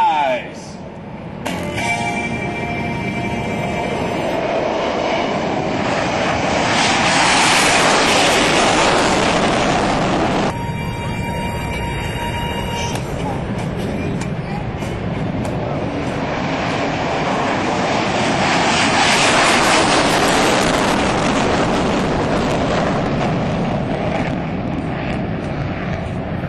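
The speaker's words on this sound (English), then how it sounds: "Gamecocks from the 19th Fighter Squadron rolling onto the runway. Clear, it's time to go. Take the fight to the skies!" US Air Force fighter jets roll onto a runway and take off at an Alaska joint force demonstration, a loud, sustained roaring jet rumble that swells and fades twice, with a commentator's voice over it.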